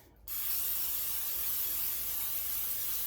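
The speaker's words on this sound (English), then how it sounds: "what I'm going to do is spray my baking dish" A steady hiss of cooking spray from an aerosol can onto a baking dish, starting abruptly and holding evenly for about three seconds, close and continuous.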